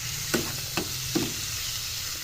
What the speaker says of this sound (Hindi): तो हम इसको थोड़ा सा इसमें फ्राई करेंगे